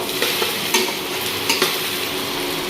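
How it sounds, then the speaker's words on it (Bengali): Ginger, garlic and onion fry in oil in a wok with a dense, steady sizzle close by, cut by a few quick scrapes of the spoon pressing and stirring. "তো এরকমভাবে হালকাভাবে ভাজবো।"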